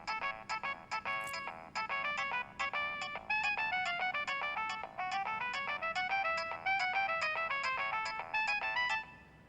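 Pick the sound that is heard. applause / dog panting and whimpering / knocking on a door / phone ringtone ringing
phone ringtone ringing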